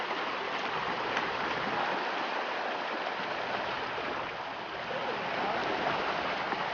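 River water flows in a steady, broadband rush throughout, close and continuous with no pause.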